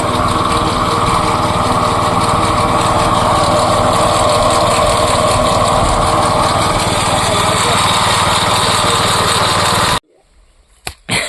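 A crop spraying machine's small engine runs loud and close with a steady buzzing drone for about ten seconds, then cuts off abruptly, leaving a few faint knocks and a short burst of noise at the end.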